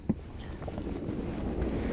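Coastal wind while lure fishing on the shore at Cambois, a soft steady rushing and buffeting over the microphone, faint and continuous with one brief knock near the start.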